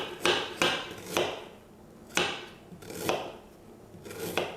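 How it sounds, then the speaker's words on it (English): Fresh ginger is peeled and chopped on a board nearby, giving a handful of soft, irregular knife taps and scraping strokes, quiet and close, with brief rubbing between the cuts. "Got our fresh chopped ginger."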